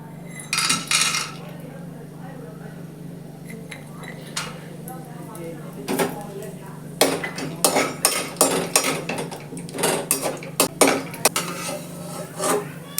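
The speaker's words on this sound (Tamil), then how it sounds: "எண்ணெய் சூடு ஏறினதுக்கப்புறம் நம்ம வேர்க்கடலையும் முந்திரியும் நம்ம முதல்ல வறுத்து எடுத்து வச்சுக்க போகிறோம்." Peanuts and cashews roasting in hot oil in a pan, heard as repeated metal clinks and scrapes of a spoon stirring, quickening toward the end over a low steady hum.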